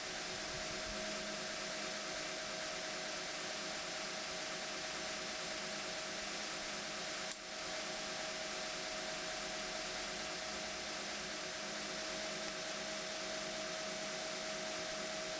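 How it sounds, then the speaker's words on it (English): Belt grinder grinding a steel knife tang against the platen, a steady loud roar and hiss that continues unbroken, with only a brief dip near the middle. "Just moving the knife over the whole face of the platen."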